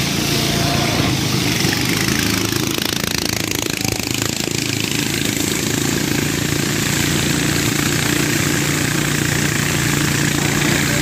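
A motorized trawler boat engine drones loudly and steadily on the Sangu river, a close, unbroken rumble with no pause from start to finish.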